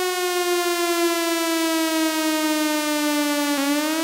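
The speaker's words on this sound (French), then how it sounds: "Dès que vous entendez la sirène d'alerte" A French industrial-hazard civil defense alert siren wails steadily and loudly, holding a sustained rising-and-falling alert tone throughout.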